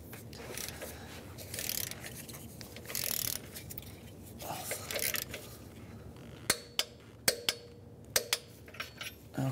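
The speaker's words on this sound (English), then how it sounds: "I'm going to come back and torque that down to 32 foot-pounds. Again with our O2 sensor socket." A socket wrench torques an O2 sensor on a Hyundai Sonata, first bursts of ratcheting clicks, then a series of sharp metallic clicks spaced irregularly, close and fairly quiet.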